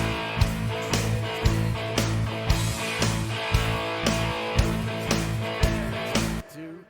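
Instrumental rock mix of guitars, bass and drums with the vocals removed, punchy kick and snare hits in a steady beat under sustained guitar chords, ending abruptly as the music cuts out.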